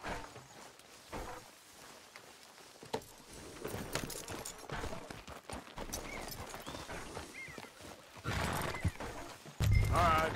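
Horses in the Western video game Red Dead Redemption 2 whinny and neigh while hooves clip-clop irregularly, with other game sounds mixed in and a louder burst near the end.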